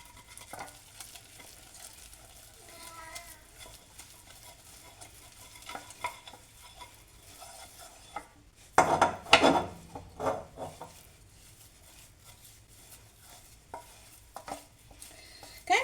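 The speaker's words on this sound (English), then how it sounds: "I'm going to stir it until I have a nice ball forming" Flour stirred into hot choux paste in a pot, faint scraping at first, then a loud burst of thick rubbing and slapping strokes around the middle, easing into quieter intermittent stirring.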